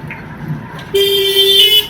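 Riding a toto e-rickshaw through traffic toward Jirat, with a low road hum that gives way to a loud sustained horn blast from a nearby vehicle lasting about a second, close and harsh.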